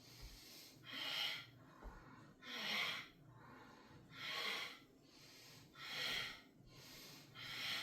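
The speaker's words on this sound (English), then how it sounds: "My breath's a little louder than I would recommend" Loud, deliberate breaths during a standing banded core workout come close to the mic, with about four slow, even inhale-exhale cycles rising and falling in a steady rhythm.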